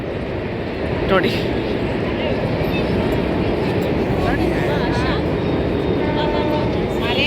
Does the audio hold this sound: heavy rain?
no